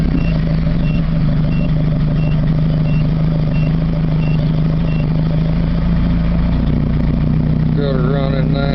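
A big V8 engine with a Flowmaster exhaust idles on the fast idle cam with a deep, steady, throaty burble throughout, loud and close, with a faint repeating beep and a voice briefly near the end.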